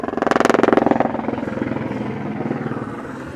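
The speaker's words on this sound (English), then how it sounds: "Told you, the helicopters." A helicopter passes overhead outdoors above a hockey event in Las Vegas, its rotor thumping in a steady rapid pulse that is loudest at first and then eases slightly as it moves off, with no voices present.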